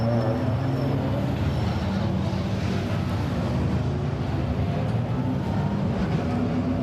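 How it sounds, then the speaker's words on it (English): GT4 race cars roll out onto the Macau street circuit in windy conditions, a continuous low engine drone with a steady rumble, heard from some distance and sustained throughout without pauses. "the clock is on and GT4 cars are released onto the circuit"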